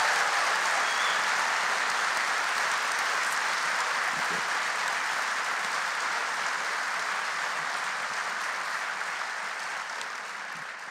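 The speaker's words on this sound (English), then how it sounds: "big round of applause for Jeffrey Toobin" A theater audience at a live podcast taping in Town Hall gives a long round of dense, steady applause that holds its level before gradually tapering off near the end.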